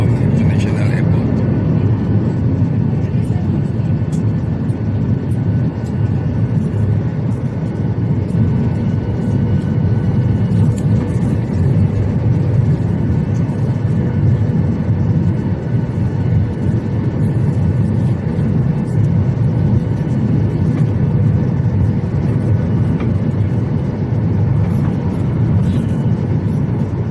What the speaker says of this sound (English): There was a rough landing.